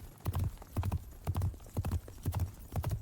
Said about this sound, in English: For the horse hooves, I used some coconut recordings from our library, along with some saddle foley and stampede sounds.